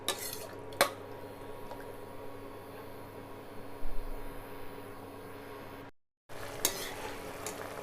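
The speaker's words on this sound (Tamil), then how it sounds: "இப்போ இது நல்லா கொதித்து கத்திரிக்காயெல்லாம் வெந்து வரட்டும்" Brinjal thalicha gravy bubbles in a pot with a soft, steady hiss of simmering, broken by a few sharp clinks of a spoon against the pot and one brief dropout.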